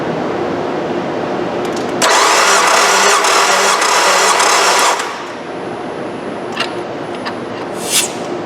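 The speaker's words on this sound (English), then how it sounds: "All right, wide open throttle, crank it up." A Nissan 2.5 engine cranks at wide open throttle during a compression test, a loud, even starter churn of about three seconds that stops abruptly, followed by a quieter shop background and a few small clicks.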